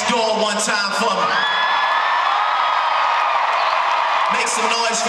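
A packed arena crowd at a concert in Oakland, California, roars without pause through the show's closing, with whoops and shouted yells rising over a dense, loud wall of cheering.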